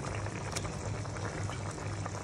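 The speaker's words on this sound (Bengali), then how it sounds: "এটা একটু ফুটে আসুক" Fish and potato curry with pointed gourd boiling in a pot, a close, steady bubbling and gurgling simmer, fairly quiet and continuous.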